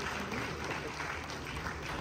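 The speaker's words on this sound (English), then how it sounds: "A round of applause for His Majesty." A crowd at Jubilee Hall applauds the Asantehene, a continuous, even roar of clapping that fills the room, with a faint crowd murmur underneath.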